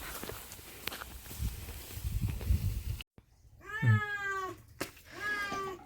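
A cat meows repeatedly while it is being bathed, the close, wavering cries coming in short bursts after a stretch of rustling and splashing handling noise.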